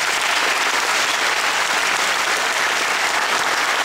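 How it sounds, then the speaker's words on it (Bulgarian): An audience gives children a stormy round of applause, dense, loud and continuous clapping at a constant level throughout, with no voices rising above it. "Нека ги приветстваме и наградим с бурни аплодисменти."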